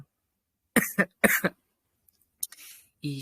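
Two sharp coughs close to the mic after a short silence, followed by a softer breathy sound and the start of a voice.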